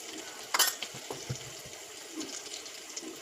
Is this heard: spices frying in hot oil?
yes